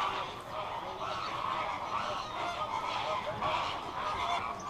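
Excited ducks at a wildlife park call together at feeding time once keepers set down food pans, a dense, continuous chorus of honking and quacking from a flock nearby, steady in loudness throughout.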